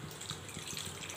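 Water pours into a pot of vegetable soup in a soft, continuous gushing trickle, faint and steady for a brief moment with no talk.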